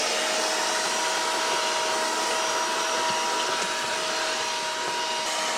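A Bell + Howell handheld car vacuum running continuously, a loud steady whooshing motor roar with a thin high whine, unchanging from start to finish.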